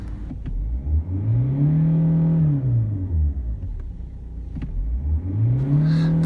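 Diesel car engine starting up and running, its pitch rising and falling in two clear rev swells with a steady idle between, close and fairly loud, with no voices.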